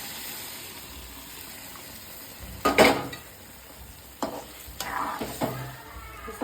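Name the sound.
stirring mashed vegetables frying in a pan for pav bhaji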